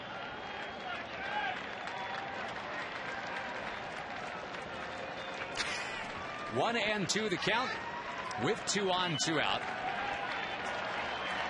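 A baseball stadium crowd during a Toronto at Texas game, a steady roar of applause and cheering under a commentator's play-by-play, swelling with louder bursts of cheering partway through.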